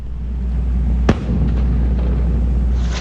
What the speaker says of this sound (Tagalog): Sunod na maririnig ang putok naman ng 105mm howitzer ng Philippine Marines.